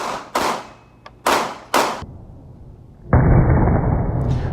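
Glock 19 pistol fired outdoors: four sharp reports in an uneven sequence, each ending in a short decaying tail, followed by a steady broad rushing noise over the last second and a half.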